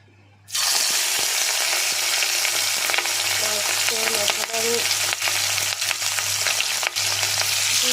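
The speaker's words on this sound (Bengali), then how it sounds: "এখন মাছটা ভাজি চলেন দেখতে থাকেন এই যে তেলটা অনেক গরম হয়ে গেছে" Hilsa fish for mustard hilsa with eggplant frying in very hot oil, a loud, steady, close sizzle with faint stirring and scraping, starting abruptly and holding dense crackle throughout.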